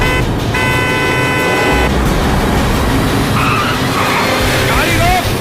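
A car driving hard in a Hindi-dubbed action movie chase, with a steady loud engine roar and a brief tyre squeal over someone shouting urgently.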